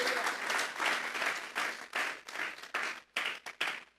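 Loud, sustained applause from a church congregation, clapping in waves that break into short bursts near the end.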